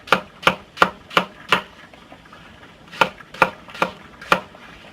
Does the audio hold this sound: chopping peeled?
yes